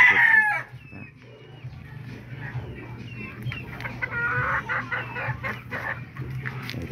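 A sick pet chicken with a runny nose clucks and crows nearby, with a steady low hum in the background and scattered bird calls throughout.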